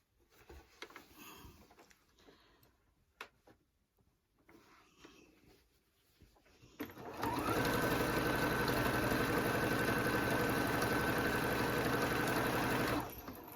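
A sewing machine stitching quilt binding runs steadily and loudly for several seconds after quieter handling noises, then stops abruptly.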